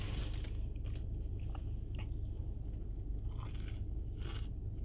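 Deep fried breaded portobello mushrooms being bitten and chewed, a few soft crunches and crackles over a constant low rumble of background noise.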